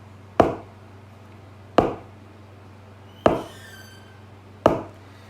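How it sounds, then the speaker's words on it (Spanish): Pirate's wooden peg leg knocking on a ship's wooden deck, four sharp, hollow knocks spaced evenly like slow footsteps, close and alone. "el sonido del palo contra la madera del barco pudiera sonar algo así"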